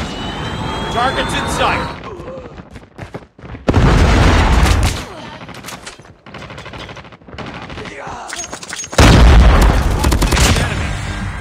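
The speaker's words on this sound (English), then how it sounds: "Predator missile inbound." Predator missile strike in Call of Duty: Mobile: heavy booming blasts land twice, loud and close, amid rattling bursts of gunfire, with voices talking between the explosions.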